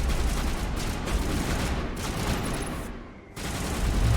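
Gunfire from attacking enemies in Mass Effect: loud sustained volleys fill most of the moment, dipping into a short quiet gap before the shooting surges back.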